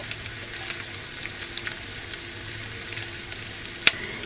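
Garlic frying in a pan with a steady, crackling sizzle throughout, scattered small pops and one sharper snap near the end, close and continuous with no voices.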